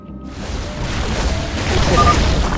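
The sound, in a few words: Nidus worm spawning points destroyed, StarCraft 2 video game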